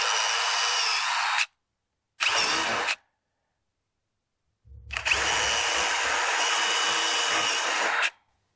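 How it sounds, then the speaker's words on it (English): A power drill whirs in three bursts, two short and one longer, close and loud, drilling pilot holes in wood for a squash trellis, with silence between them. "I'm going to drill a few holes just to get the screws started a little easier"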